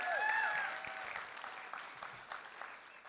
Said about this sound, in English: give one more round of applause as well